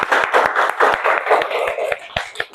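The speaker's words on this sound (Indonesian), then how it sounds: "Bagus, tepuk tangan." Students in an Indonesian classroom clap together, a dense, lively burst of many hands with a loose beat running throughout at a steady, fairly loud level.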